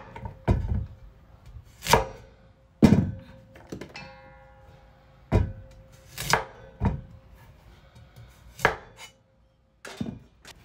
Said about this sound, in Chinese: 然后改刀切成厚片儿，最后把它切成像小拇指粗细的条儿